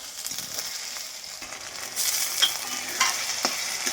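Ginger garlic paste sizzles and fries in a pan for mutton curry, with soft crackling and occasional stirring scrapes, close up and with no speech.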